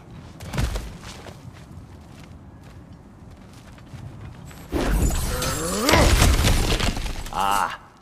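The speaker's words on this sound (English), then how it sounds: "Ah, back to smashing through things for fun and profit." Cracked ground shatters loudly as it is smashed through in God of War Ragnarök, a heavy burst of crumbling rock and debris that follows quieter footsteps and ambience.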